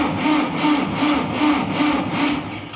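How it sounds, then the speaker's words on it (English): A car's starter motor grinds under jump-pack power, giving a steady rhythmic churning with about six evenly spaced pulses per couple of seconds, loud and close, with no one talking. "let's see if the starter can grind."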